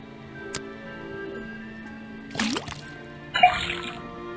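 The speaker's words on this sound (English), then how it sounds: "Then tap the faucet." Faucet tapped in the Detective Grimoire game as liquid drips into a cauldron: a sharp tick, then a couple of short splashy water bursts over a quiet low hum.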